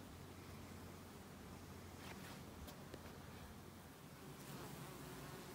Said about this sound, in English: the final push by the bees to just get enough stores in for the winter